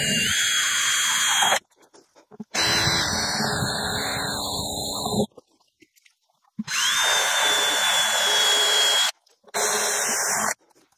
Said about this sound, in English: So if I drill 3 8mm holes in the top of this, I should be able to feed the hoses through.